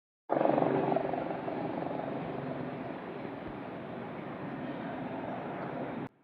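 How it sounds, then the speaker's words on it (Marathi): A steady, loud helicopter drone with a broad rotor roar that holds constant from start to finish, no voices over it. "बघा हेलिकॉप्टरचं शूटिंग मी आज करत आहे"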